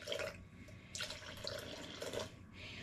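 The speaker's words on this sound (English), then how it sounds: "I'm gonna add in 255 grams of water. And I just did lukewarm water." Lukewarm water is poured into sourdough starter while mixing bagel dough, giving a splashing, trickling stream in a few uneven surges that swell and fade over about three seconds, close by and moderately loud.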